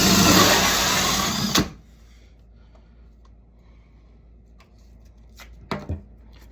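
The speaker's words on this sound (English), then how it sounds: "We'll just core these all out with a 4-inch hole saw." A 4-inch hole saw cores out a hole, a loud, steady grinding cut that stops sharply after about a second and a half, followed by near silence and a couple of brief clunks toward the end.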